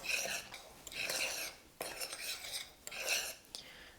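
Dry ingredients for Belizean powder bun are stirred in a bowl with a utensil, giving soft scraping, rasping strokes in a few rhythmic passes, close and fairly quiet.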